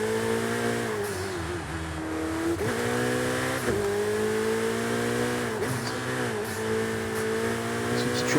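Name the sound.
turbo car accelerating in the video game Forza Horizon 5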